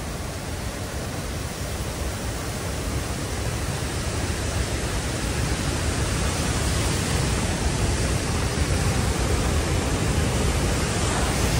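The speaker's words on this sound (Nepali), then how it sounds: "यस्तो डरलाग्दो भएर चाहिँ पानी बगिरहेछ है।" Heavy floodwater rushing down the Jaldhaka river, a steady, loud, broadband roar of torrent that holds constant throughout with no speech over it.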